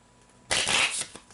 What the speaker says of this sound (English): let me shuffle again